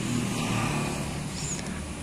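A Honda CBR 150R motorcycle with a long racing exhaust revs at high RPM, giving a loud, steady, bassy engine drone close by that holds for the whole stretch with no talking.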